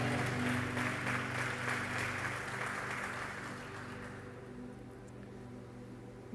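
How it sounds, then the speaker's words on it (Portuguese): Congregation applause fills a church sanctuary at night, a steady wash of clapping over soft sustained instrumental tones that gradually thins and fades toward the end. "Você pode aplaudir a Ele nessa noite?"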